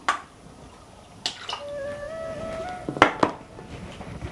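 Coconut oil is poured from a container into a cooking pan, making a faint, short liquid trickle with small gurgling tones and a few light clicks from the pan, with no talking.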